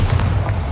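A Bombarda spell explosion in the Hogwarts Legacy video game: a short, loud, deep boom with a low thumping rumble, lasting under a second.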